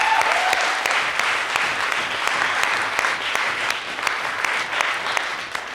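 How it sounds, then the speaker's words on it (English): Audience applause for poetry slam performers, dense and sustained clapping from a crowd that stays steady for several seconds, with faint voices mixed in. "just give them a big round of applause"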